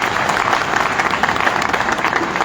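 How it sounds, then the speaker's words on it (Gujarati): A large crowd, from young people to senior citizens gathered on an open ground, claps for a motivational speech by IPS officer Safin Hasan, producing a loud, continuous wash of applause that stays even throughout. "એકવાર જોરદાર તાળીઓ તમારા માટે છે."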